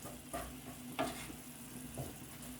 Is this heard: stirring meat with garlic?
yes